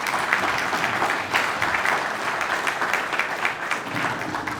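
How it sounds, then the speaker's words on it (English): Steady audience clapping at a wrestling hall of fame awards ceremony, a moderately loud, even patter of many hands throughout, with no speech over it. "One more round of applause for Mr."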